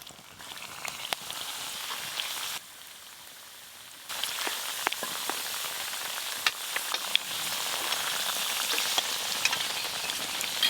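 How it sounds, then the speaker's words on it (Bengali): Khasta dough pieces frying in warm white oil on a tawa, a dense, rain-like sizzle with scattered pops and clicks, dipping quieter for a couple of seconds before swelling back louder and steady. "এবার এইগুলো আমি ভেজে নেব।"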